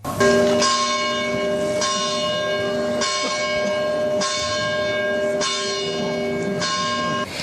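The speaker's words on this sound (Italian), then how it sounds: "22 rintocchi di campane, tanti quanti i suoi anni, accolgono l'uscita del feretro" Church bells toll in slow, even strokes as a coffin leaves the church at a funeral in Sicily, each loud ringing strike sustaining into the next, about six strikes with no talk.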